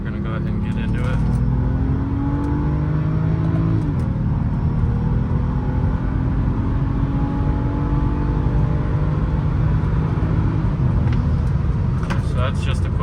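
A BMW X1 xDrive35i M-Sport with the N55 engine pulls hard from around 40, a loud, steady engine drone rising in pitch, heard from inside the cabin, with a gear change early on and a voice talking over it.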